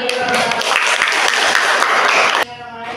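A crowd claps loudly and steadily for a couple of seconds before the applause cuts off abruptly.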